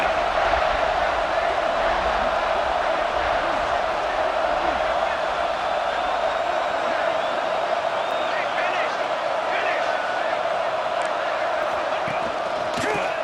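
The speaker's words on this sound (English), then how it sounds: "And the crowd really making some noise now, trying to help out this defense to get this stop near the goal line." Steady, dense crowd roar from a college football video game between Oregon and Ohio State fills the whole stretch near a goal-line stand, with a commentator talking over it.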